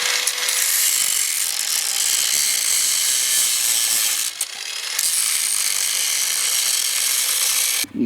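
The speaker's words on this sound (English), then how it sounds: "I'm going to take a cut across the seam here so we can actually see how the seam is put together" A cutting tool slices across the seam of a Porsche 996 exhaust muffler, a loud, continuous harsh grinding rasp held close up for the whole stretch with only a brief dip midway.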